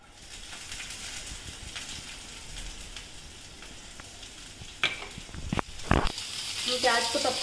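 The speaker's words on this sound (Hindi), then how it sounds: "अब हम इसमें प्याज ऐड कर रहे हैं।" Onions are added to ginger and garlic frying in a pan. A soft steady sizzle is broken by sharp crackles as they go in, and the frying grows louder and busier toward the end, with clinking stirring.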